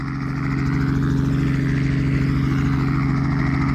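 A helicopter at Barton Aerodrome gives a steady, close mechanical drone with a strong low hum and rapid rhythmic pulsing, building slightly at the start and then holding even, with no talk over it.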